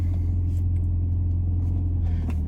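A 2021 JCW Mini Clubman engine running in sport mode, heard as a steady low idle rumble with a constant hum throughout, close and moderately loud, with no talking.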